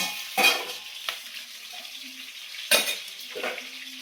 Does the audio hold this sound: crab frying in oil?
yes